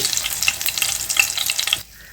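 Spices sizzle in a hot tempering as a spoon stirs asafoetida through them in quick scraping bursts, close up, then the sound drops away near the end.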